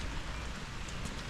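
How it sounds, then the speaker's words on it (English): Steady rain falls outdoors at a fence-building landscaping job, a dense, continuous hiss of drops on surfaces with no voices, holding an even level throughout. "Got rain on and off."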